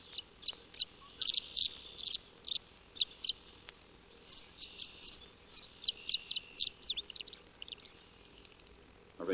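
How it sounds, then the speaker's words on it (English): Tree swallows twitter around birdhouses near a pond, bursts of bright chirping calls repeating in quick clusters over a quiet outdoor background. "the tree swallows are twittering about the birdhouses"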